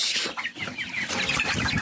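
Poultry chickens on a broiler farm clucking in a dense overlapping chorus, close and continuous, with many birds calling at once.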